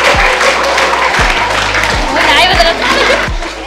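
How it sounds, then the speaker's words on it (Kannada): An audience at a school Constitution Day celebration claps to welcome school groups, steady crowd applause over a deep rhythmic low thump from the venue's sound system. "ಎಲ್ಲರೂ ಚಪ್ಪಾಳೆ ಮೂಲಕ ಅವರಿಗೆ ಸ್ವಾಗತಿಸಬೇಕೆಂದು"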